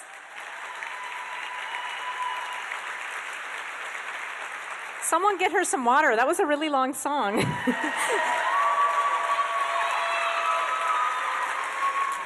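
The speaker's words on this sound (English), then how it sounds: "One more round of applause." Audience applause with scattered cheering at a benefit program after a long song, a steady crowd clapping throughout while someone speaks over it and a brief musical or vocal flourish rises midway.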